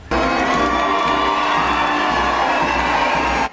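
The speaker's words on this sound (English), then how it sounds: "Thousands roar and cheer as active members of the military escort them to their loved ones." Thousands in a crowd roar, whoop and cheer as returning military veterans are escorted home to their families in Shreveport, a dense, steady wall of loud cheering with high shouts mixed in, cutting off abruptly at the end.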